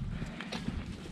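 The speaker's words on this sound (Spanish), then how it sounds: "debajo de este árbol, hay una manada de caballo" A herd of horses moves beneath a tree, giving a brief patter of hoof clip-clops on the ground at a moderate distance, fairly quiet.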